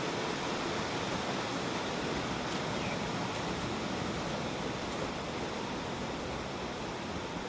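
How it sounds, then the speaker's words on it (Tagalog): Steady, dense broadband hiss of heavy rain pouring continuously, loud and unbroken, with no voices, during flooding at a house. "Problemang malaki, hindi pa humihinto ang ulan."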